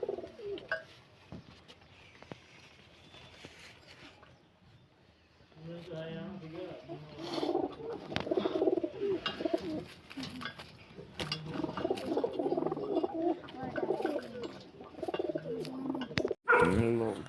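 Soft pigeon coos sound repeatedly in the background while someone talks over them for most of the stretch.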